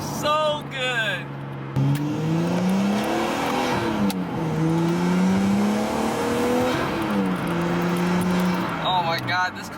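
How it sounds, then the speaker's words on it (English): Nissan R34 Skyline with a Tomei exhaust pulling through gears, the engine note rising and falling between shifts with short burbles after each change, loud from inside the car. "There's like little burples at the end after every shift. Can you guys hear that?"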